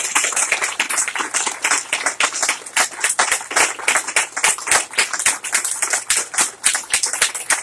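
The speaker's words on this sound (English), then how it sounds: "Let's give a round of applause." Audience applause at an Eagle Scout court of honor, steady close clapping from a modest crowd filling the whole stretch with dense, irregular hand claps and no talking.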